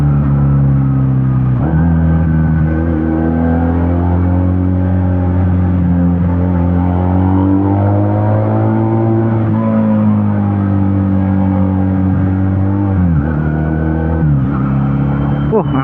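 A Benelli Patagonian Eagle 250 motorcycle engine revving up and down repeatedly, a loud, close, steady rumble with rising and falling pitch and occasional throttle blips.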